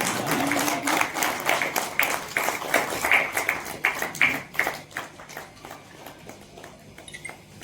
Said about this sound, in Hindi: एक बार मनोहर के लिए तालियां, एक बार पुस्तक के लिए तालियां।